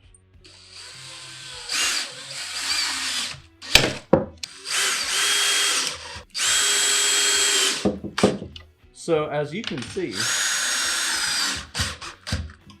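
A power drill whirs in several bursts, driving pocket-hole screws into pine with brief pauses between runs; someone talks briefly in the gaps.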